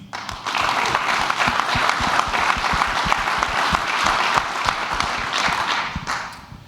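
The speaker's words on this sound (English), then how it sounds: "Round of applause for Ian." A conference audience at a veteran founders' event breaks into steady applause, a full room of clapping with a few heavier close claps, tapering off near the end.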